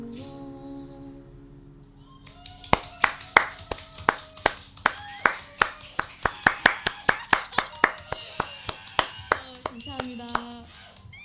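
Someone applauds a live acoustic performance after a brief snatch of music, with about two dozen sharp, close hand claps in a steady rhythm and a faint voice in the background.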